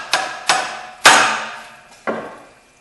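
Metal tool striking parts in the engine bay of a 1996 Jeep Grand Cherokee near the fan and pulley, four sharp ringing clanks with ringing decay, close and loud, no voices.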